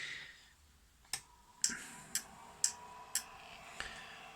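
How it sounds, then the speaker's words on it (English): A BLTouch bed-leveling probe on a 3D printer makes six sharp, evenly spaced clicks at about half-second intervals over a quiet room background, with no talking. "It's just the BL touch clicking that you're hearing."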